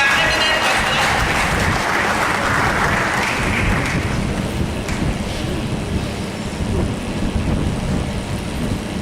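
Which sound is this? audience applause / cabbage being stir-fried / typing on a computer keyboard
audience applause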